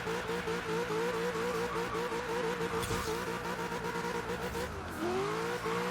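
Ford Falcon engine revving high with the rear tires spinning in a burnout in Forza Horizon 3, a loud, constant engine whine that climbs in pitch, dips briefly near the end, then rises again as it shifts up.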